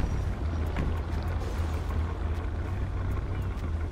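A car engine in a GTA 5 police patrol mod, revving while stopped at a traffic stop, a steady low rumble that holds throughout with faint wind-like noise above and occasional voices.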